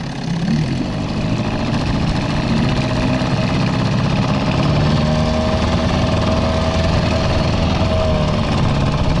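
A Johnson/Evinrude 6/8 outboard motor runs on a PVC inflatable boat, a loud, steady engine drone with a low rumble that holds even and continuous throughout, with no talking.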